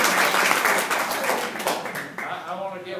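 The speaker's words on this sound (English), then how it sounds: "so let's clap for that too." A class reunion audience claps in a dense round of applause that fades out partway through, while a voice begins speaking over the end.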